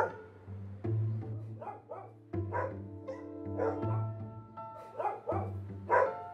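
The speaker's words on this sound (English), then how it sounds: "So, we have some big dogs." Several big dogs bark in loud, irregular bursts of deep woofs with short pauses between, some yips and whines mixed in, close by and without talk.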